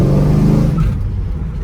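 A Plymouth Barracuda with a 440 engine, a hotter camshaft and a Quadrajet 750 carburetor revs hard, giving a loud, close, deep rumbling roar that rises and then settles over a brief burst.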